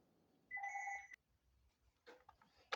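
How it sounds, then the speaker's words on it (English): A telephone bell rings once in a short, bright electronic burst in a quiet room, followed by faint handling clicks and rustles. "so got a phone call"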